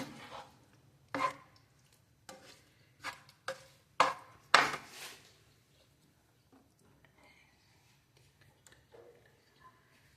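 Paneer stirred in a pan over a medium flame: a handful of sharp, separate clinks and scrapes of a utensil against the pan, clustered early, then long quiet stretches with faint clatter.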